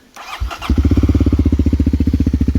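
A Kawasaki KLX 250 motorcycle is cranked and fires up on a cold engine, then settles into a loud, close, steady thumping idle with an even rapid pulse and no talking.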